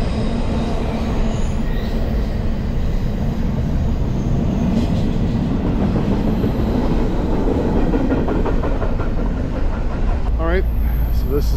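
A train rumbles past nearby, loud and continuous, its wheels clattering and occasionally squealing over the rails the whole time.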